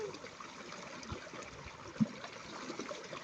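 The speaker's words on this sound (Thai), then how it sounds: "เป็นแป้วน้ำไหลลง" A natural stream in southern Laos, the Lam Se, flows in a soft, steady wash of water with a faint trickle and one brief louder splash, heard alone and at a low level.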